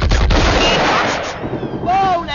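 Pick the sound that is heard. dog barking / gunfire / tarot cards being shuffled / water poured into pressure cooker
gunfire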